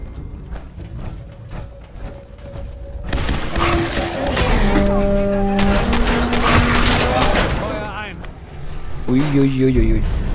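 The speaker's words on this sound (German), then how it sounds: "Das ist Junkies Gamma-Kanone." The Junkie's Gamma Gun fires in Fallout 4, a burst of repeated loud weapon shots mixed with mechanical clanks and ratcheting game effects over roughly ten seconds.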